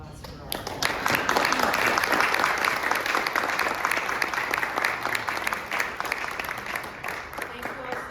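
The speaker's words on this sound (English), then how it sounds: "How about a round of applause for all?" An audience at a public reading of the Declaration of Independence in a library breaks into sustained, dense applause, with many hands clapping steadily for several seconds and a few scattered voices mixed in.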